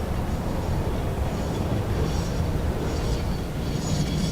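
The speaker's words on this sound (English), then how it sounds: "I did not realize this train goes through the ground back here?" A video game train rumbling steadily along its tracks, a loud continuous roll of wheels and carriage noise close by, with no break across the stretch.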